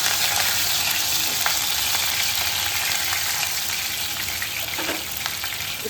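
Curry leaves, a green chili and crushed garlic sauté in a pan with a loud, continuous close sizzle, with faint scraping stirs now and then and no talking.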